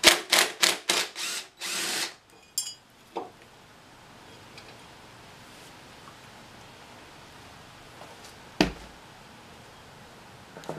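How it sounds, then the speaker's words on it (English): A wire wheel cleaning metal clutch parts, heard as a burst of loud, harsh, repeated grinding pulses up close for about two seconds, then quiet room tone with a few faint knocks. "I'm going to be wire wheeling everything except for the clutch material"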